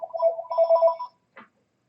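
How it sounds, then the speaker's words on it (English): A telephone rings once in a quiet room, a single warbling electronic trill about a second long followed by a short faint blip, alone with no talking. "Let the phone run."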